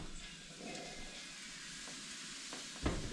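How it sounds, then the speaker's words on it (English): Turkey burgers frying in a pan with rice cooking alongside for dinner give a faint, steady sizzle and hiss, with a brief louder clatter near the end. "We got rice going, we got turkey burgers"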